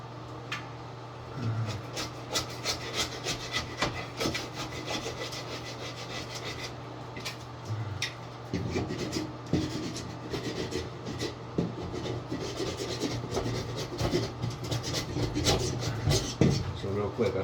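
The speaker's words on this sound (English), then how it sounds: "Outside layer, peel it off, razor knife, spatula knife, whatever." A spatula knife scrapes old wallpaper off a wall, producing continuous rough rasping and rubbing strokes that grow louder toward the end, close and steady with no voice over them.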